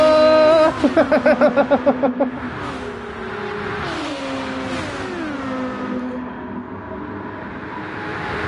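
Super GT race cars in a video game run nose to tail in a pack off the final turn, a loud, layered whine of engines rising and sliding in pitch as they pass close, after a brief rapid pulsing burst at the start.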